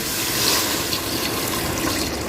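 Water poured into a pressure cooker holding meat with onion and garlic, a steady close splashing rush that runs unbroken for the whole moment.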